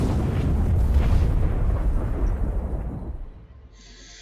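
A ship self-destructs in Elite: Dangerous with a long, loud, rumbling explosion that roars steadily for about three seconds, then fades into a quiet low hum with a faint high tone.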